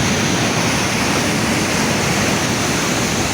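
Strong sea waves at Vigan roar as a continuous loud wash of crashing water, dense and unbroken, with no voices.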